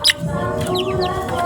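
Two hens and a rooster cluck and call together in a short, close burst, with overlapping squawks and a brief loud note at the start.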